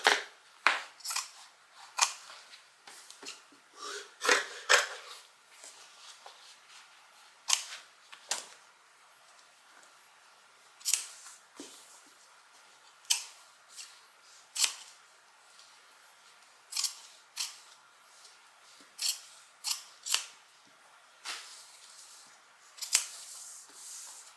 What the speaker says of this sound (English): let's just cut the center out of this.